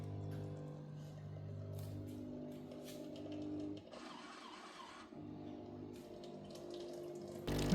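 A Miele coffee machine rinses its milk pipework with a steady humming pump and running water, a gurgling sputter in the middle, and a louder mechanical clunk at the end, with no talking.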